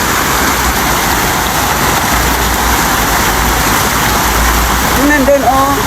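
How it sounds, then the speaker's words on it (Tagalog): Heavy rain pours steadily during flooding in Benguet, a dense, continuous roar close by with a low rumble underneath, and a few brief voices break through near the end. "Malakas na yung ulan. Dinig na dinig talaga yung ulan na"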